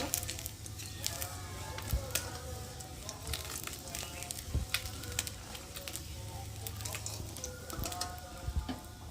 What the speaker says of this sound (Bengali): মেথি দেবো অল্প করে দেখতে পাচ্ছ আর দেবো কালো জিরে ফোড়ন ভালো করে ভেজে নেবো